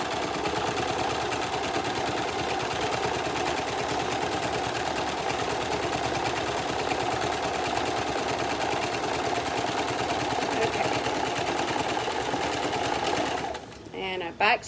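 A sewing machine stitches a fabric key fob wristlet, a fast, steady mechanical whirring and clatter running continuously at close range before stopping abruptly near the end, with a person talking under it.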